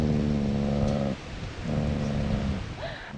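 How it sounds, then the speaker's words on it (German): Dogs in rural Georgia, the country, vocalizing in two drawn-out, tonal bursts, like low howls or growls, separated by a short pause, fairly close and steady. "Das sind nur andere Hunde."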